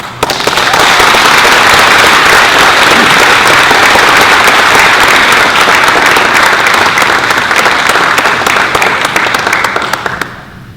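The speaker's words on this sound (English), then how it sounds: "Please give a big round of applause to one of our authors you see on the front of the book, Mr. Ralph Pearce" Loud, full applause at a book launch as an author is welcomed, a dense crackling roar of many clapping hands that holds steady for about ten seconds before tapering off at the end.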